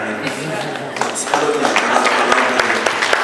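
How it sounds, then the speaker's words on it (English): Scattered clapping from a small audience that builds and thickens, with a voice talking over it. "you guys clap for that"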